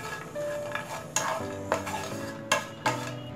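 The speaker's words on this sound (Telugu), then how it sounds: "కొబ్బరిని కూడా మనం చక్కగా కలుపుకుంటూ ఫ్రై చేసుకోవాలి" Coconut pieces are stirred and fried in a pan over low flame, with a soft sizzle beneath repeated scraping clinks of a spoon against the pan, close and fairly quiet.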